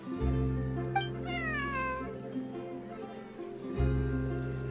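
In Genshin Impact, a cat gives a long, rising and falling meow, then two more short mews over a sustained low musical drone, with no one talking.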